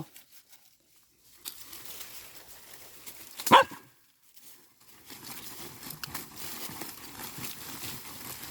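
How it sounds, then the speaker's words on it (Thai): A dog gives a single loud, sharp bark outdoors during digging in search of food, set among soft rustling and crinkling of leaves and ground. "นี่อย่าเห่าอย่าเห่าลูก อย่าเห่า"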